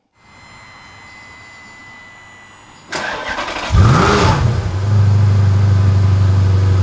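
Maserati 4200 engine starting and revving: a quiet idle gives way to a sudden loud ignition burst, a rising rev, then a deep, steady rumble close by.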